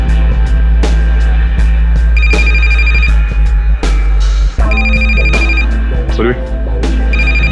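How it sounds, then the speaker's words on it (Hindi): A phone rings repeatedly while a call is placed to Rachna, in a tense scene from the TV drama CID. Bright, regular electronic rings repeat over a low droning background, loud and close, with dialogue and music underneath. "इस रचना को फोन लगा।"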